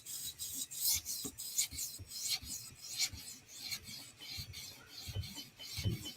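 A knife is sharpened on a 400 grit stone in a TSProf Kadet guided sharpener, making a series of rhythmic scraping strokes, close and fairly quiet, with no voices.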